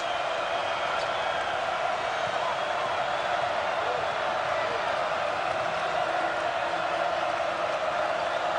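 A basketball arena crowd during a UCLA college game, heard as a steady, broad roar of cheering that fills the space evenly from start to finish, with no sharp breaks.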